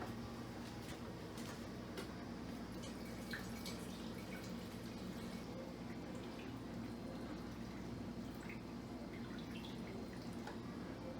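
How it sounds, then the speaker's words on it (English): Mead is poured from one container into a second during a homebrewing process, with a quiet, steady trickle and drip of liquid over a continuous low background hum. "I'm going to pour this over to container number 2"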